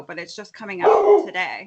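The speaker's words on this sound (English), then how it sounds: "That was my dog" A pet dog named Neville barks and yaps in a home setting, a short burst heard under and between a person's speech.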